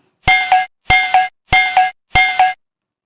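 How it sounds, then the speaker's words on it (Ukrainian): A small bell dings four times at an even pace, each strike a bright double ring that fades quickly, loud and close. "Дзвонить дзвоник."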